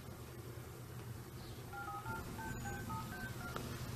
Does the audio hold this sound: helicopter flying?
no